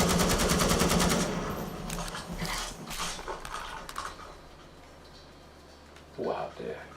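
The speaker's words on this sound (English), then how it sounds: "Assault rifle." Rapid bursts of automatic assault rifle fire in a video game, loud at the start and then trailing into scattered shots and game noise. A person talks over it.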